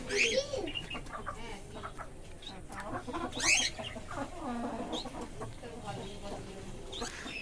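Chickens and roosters cluck and squawk in quick, uneven bursts while being fed torn bread on a farm, with a person calling to them and talking nearby.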